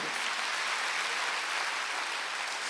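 A church congregation claps together in a dense, even wash of applause that holds steady for a few seconds.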